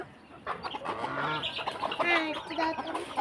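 Several chickens and chicks cluck and peep close by as they are fed in the morning, overlapping calls with high chirps scattered throughout, no talking.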